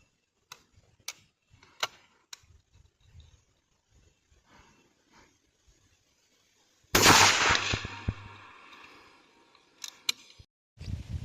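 A single loud shot from a F.A.I.R SLX-800 air rifle firing Thrill Shock pellets, a sharp crack with a short ringing tail, preceded by faint clicks and handling noises in a quiet outdoor setting.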